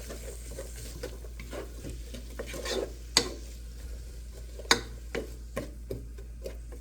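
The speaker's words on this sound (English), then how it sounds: "And I'm just going to stir those around in the pot." Ingredients for a chicken parmesan sauce stirred around in a pot in a home kitchen, with a soft steady sizzle and scattered scraping clicks of the utensil, one or two sharper knocks, no talking.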